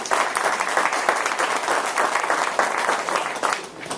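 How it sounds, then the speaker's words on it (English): Steady round of applause from an evening business-talk audience welcoming the speaker, dense and even clapping at moderate loudness for the full stretch, tapering slightly at the end, no talk. "Ladies and gentlemen, how about a round of applause for our speaker?"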